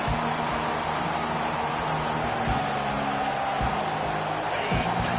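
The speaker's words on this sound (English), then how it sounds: "This crowd trying to make life miserable for this offense." Stadium crowd noise in an NCAA football video game, a steady dense roar of a large crowd, with faint broadcast commentary in the background.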